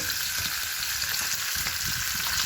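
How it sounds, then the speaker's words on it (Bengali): Fish frying in a pan makes a soft, even sizzle close by, with faint low knocks of stirring underneath, steady throughout. "আর এই যে মাছটা ভাজা হচ্ছে"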